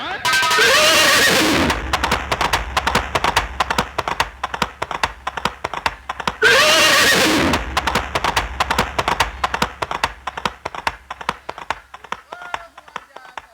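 Two loud horse whinnies from a nautanki folk-theatre sound effect, several seconds apart, each followed by a long run of rhythmic hoof clip-clops that patter on steadily to the end.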